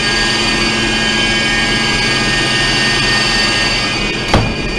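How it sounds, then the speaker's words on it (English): Kitchen exhaust fans at a new facility run continuously with a loud, even whooshing drone and steady tonal hum, broken only by a brief sharp click near the end. "The noise that you're hearing over here, we have the exhaust fans for the kitchens."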